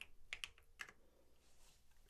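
Keys clack on a computer keyboard as a bot name is typed, a short burst of quick, close taps followed by a few scattered strokes, quiet and with no talking.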